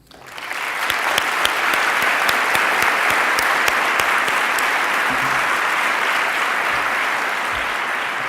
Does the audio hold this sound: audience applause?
yes